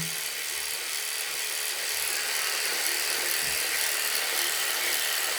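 An electric trimmer cutting a beard, giving a steady high buzz with small rattling clicks throughout, close and fairly loud with no talking.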